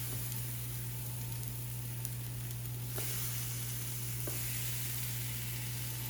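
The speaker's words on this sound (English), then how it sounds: "You hear that sizzle?" A soft, steady sizzle of bagel dough on a hot baking steel hisses continuously over a low electrical hum, with a couple of faint taps partway through.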